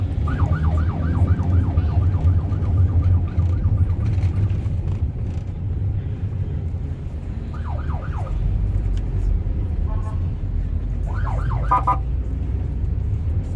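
Sirens wail in short, repeated sweeping bursts from a roadside escort of three police and Indonesian army (TNI) vehicles, over a constant low rumble of traffic and engines.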